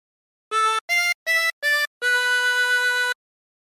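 A 16-hole tremolo harmonica plays a Jingle Bells phrase alone: four short, evenly spaced notes followed by one long held note, bright and close with a wavering reed tone.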